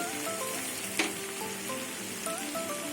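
Tomato and cumin-coriander powder frying in a pan for a Bengali pea ghugni, making a steady broad sizzling hiss with one brief clatter, near and continuous.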